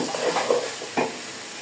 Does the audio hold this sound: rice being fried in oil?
yes